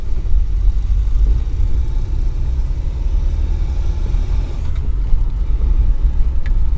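Car engine running steadily at close range, a deep continuous low rumble with mild rises as a manual gearbox is worked up into fourth gear; no talk over it.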